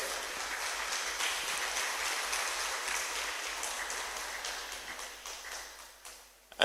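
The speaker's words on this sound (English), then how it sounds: "a round of applause for him again" An audience claps in a round of applause at a Sahel Peace Initiative national forum, a dense, even patter of many hands that holds steady and then thins out toward the end.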